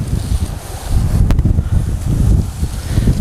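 Steady wind roars and buffets a microphone outdoors, a low rumbling rush that swells and eases continuously.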